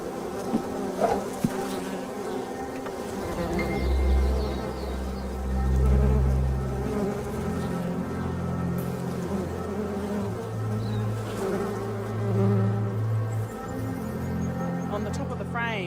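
Honeybees at a manuka honey hive in New Zealand, a steady dense buzzing hum that swells and fades across the clip, with low droning tones and some background noise.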